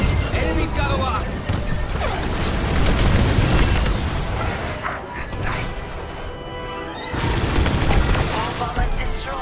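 Booming explosions of destroyed bombers in the space combat game Star Wars: Squadrons, heavy blasts and crashing debris layered over continuous engine and battle noise, with voice chatter over the action.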